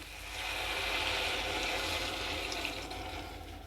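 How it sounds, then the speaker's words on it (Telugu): Half a glass of water pours steadily into a mixed vegetable curry pan, a continuous splashing rush that swells in and stays fairly loud throughout, with no talking. "ఒక అర గ్లాస్ వాటర్ పోసి"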